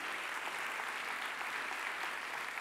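An audience at the Ma thèse en 180 secondes final at UNIGE applauds continuously, a broad, even roar of many hands heard at a distance, without talking over it.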